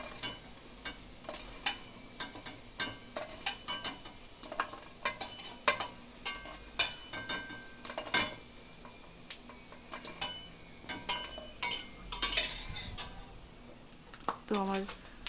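Fuchka puris frying in oil in a home kitchen, a low background sizzle broken by frequent sharp clinks and taps of a utensil against the pan, close by, with brief voice sounds.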